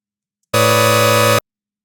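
A synthetic triangle wave tone generated by an After Effects audio effect sounds as one steady, loud, buzzy beep lasting just under a second, starting and stopping abruptly between silence.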